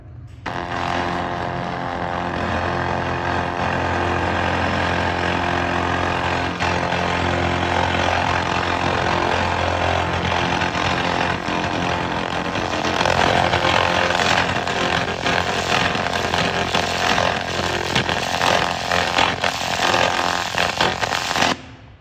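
An Umprotech laser cleaner running with a narrowed beam, a loud steady mechanical drone and whine with a buzzing hum that grows slightly harsher partway through and holds without pause.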